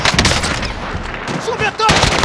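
Rapid automatic gunfire bursts loudly in a shooting video game, with dense crackling shots filling most of the moment and brief pauses between bursts.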